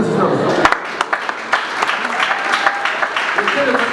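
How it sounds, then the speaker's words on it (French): Wedding guests at a French-language civil marriage ceremony clap in scattered, uneven bursts, moderately close, with murmuring voices running underneath the applause. "Veuillez recevoir les demandes sous les applaudissements d'assistance"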